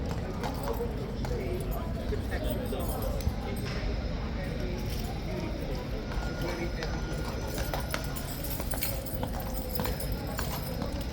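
Horse hooves clip-clop steadily at Horse Guards in a busy outdoor setting, the hoofbeats sitting under continuous crowd chatter and nearby voices.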